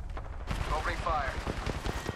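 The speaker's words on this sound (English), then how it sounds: "Shots fired, and they're hitting me." Gunfire in the battle-royale shooter Apex Legends, a dense run of rapid shots layered under game effects and radio-style voice lines, loud and continuous through most of the clip.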